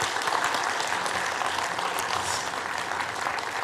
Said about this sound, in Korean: 우리 박수 한번 격려해 주시면 감사하겠습니다